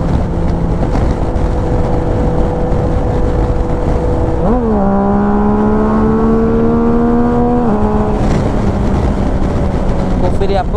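A Yamaha Tracer 900 GT 2023 motorcycle with a remapped engine rises in pitch as it accelerates hard midway, a loud engine tone climbing and holding before dropping away, over steady wind and road rumble.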